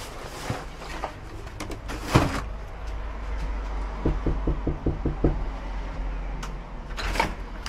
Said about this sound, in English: So I guess we're going to knock.